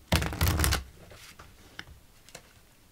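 A deck of Gaia oracle cards is shuffled in one quick riffling burst, followed by a few soft taps and card handling sounds.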